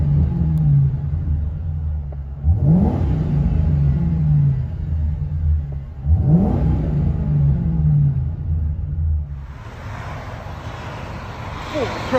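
A 2010 Ford Crown Victoria Police Interceptor with a 4.6L V8 and true dual Flowmaster exhaust with an H-pipe, heard from inside the car, rumbles at idle and revs twice in quick swells before a rougher, louder rise near the end.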